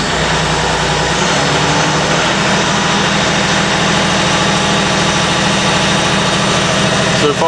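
A farm engine cranks and catches, then settles into a steady, loud idle with a low rumbling drone that continues close by.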